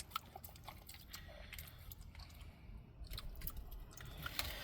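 A dog chews and eats an egg close by, soft wet bites and mouth sounds repeating irregularly over a quiet background, faint overall.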